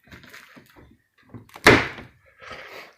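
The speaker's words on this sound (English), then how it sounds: "You can hear them kind of snap in as they go past those tabs, and they just lock in." Plastic grille insert ring on a 2020 Jeep Compass snapping into its locking tabs, a single sharp close click-thunk between quieter handling noises and soft rustling.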